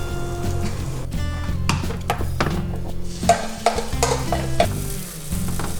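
A protein pancake fries in butter in a pan with a steady sizzle, mixed with occasional clinks and scrapes of a utensil against cookware, close up, no talking.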